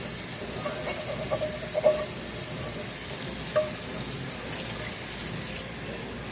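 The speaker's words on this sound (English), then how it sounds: "I'm going to take my little scrubby thingy and go in those grooves a little bit more" A grooved Ayesha Curry cookware pan is scrubbed under running water, with a steady hiss from the tap and short scouring strokes and clatters close by. No one speaks.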